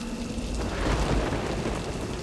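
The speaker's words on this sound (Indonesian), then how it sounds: "Hujan di Mumbai luar biasa ya" Heavy rain pours down steadily in Mumbai, a dense, loud wash of hiss and patter with low rumbling underneath, continuous throughout.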